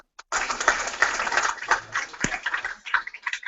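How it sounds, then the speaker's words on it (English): An audience claps after a final student presentation for a community project, a burst of scattered hand claps starting sharply and continuing unevenly at moderate loudness. "Okay, applause."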